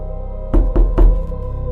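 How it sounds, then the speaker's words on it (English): Three slow, heavy knocks land on an apartment door, close and evenly spaced, each a dull thud over a steady low background hum, with no voices. "Not loud, not urgent, just 3 slow taps on my apartment door."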